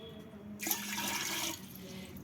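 A short burst of water, about two glasses, pours and splashes into a cooking pot of sarson da saag with garlic for about a second, then fades, close by with no voices.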